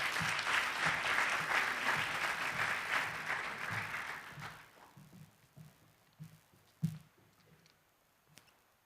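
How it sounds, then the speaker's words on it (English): An audience claps for a school poetry recitation champion, a full round of applause that fades out over several seconds, leaving a few scattered late claps and small room noises. "So please give him a warm round of applause."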